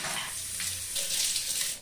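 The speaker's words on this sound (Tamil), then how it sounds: "இந்த மாதிரி நம்ம பறித்த இலையை வந்து நல்லா தண்ணியில் வாஷ் பண்ணி எடுத்துக்கணுங்க." Freshly picked leaves rinsed under a running tap, a steady close splash and hiss of water that continues throughout the short stretch.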